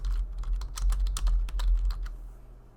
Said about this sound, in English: You can enter a note by simply clicking into the note window and typing your note